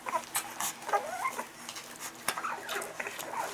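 Alapaha Bulldog x American Bulldog puppies suckle noisily, giving soft wet smacking and snuffling sounds with small squeaks, close and fairly quiet, continuous across the moment.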